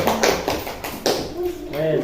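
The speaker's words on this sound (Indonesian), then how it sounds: "tepuk tangan untuk jantung koroner" A primary school class claps hands in a few rhythmic bursts, with voices of children and a teacher talking over and between the claps.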